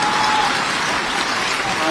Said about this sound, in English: thank you so much for such generous, warm applause and welcome